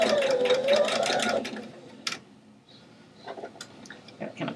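A sewing machine runs a straight stitch on black skirt fabric, a quick buzzing whir for over a second, then it stops and soft clicks and handling of fabric follow.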